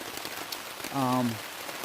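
Steady rain falls along the Appalachian Trail during a 2019 thru-hike, a continuous soft hiss with a brief tonal sound rising over it partway through.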